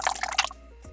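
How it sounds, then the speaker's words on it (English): A spray bottle spritzes water onto a table surface being prepared for paint, giving several quick, close hissing bursts in the first half-second, followed by quiet. "I'm just going to give it a spritz of water just to moisten the surface"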